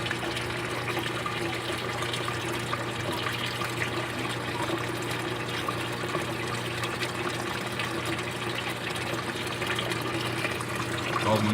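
Water flows steadily down through a filter planted with water hyacinth in a homemade fish tank built inside an old refrigerator, making a continuous close trickling rush that holds even throughout.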